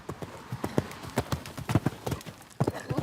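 Horse hooves clip-clop in a steady rhythm during a riding lesson, a run of close, distinct thuds with a brief pause before the beat resumes.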